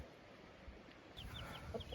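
A hen clucking softly outdoors, a few short, quiet clucks scattered over a low background hum.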